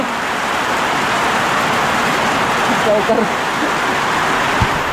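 Steady rain falling and water dripping through a leak, a dense continuous hiss throughout with people talking faintly beneath it.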